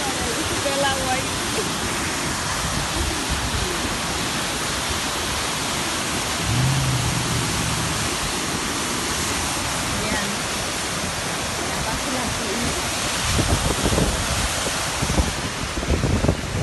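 A waterfall in Seward, Alaska rushes and roars as a steady, broad, close wash of falling water that continues throughout without a break.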